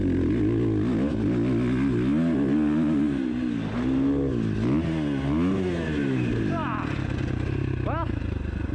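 A 2019 Husqvarna FC 450 dirt bike ridden hard, its engine revving and wavering up and down loudly and close throughout, with someone talking over it.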